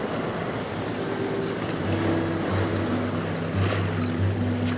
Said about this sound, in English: Some nice wave action there.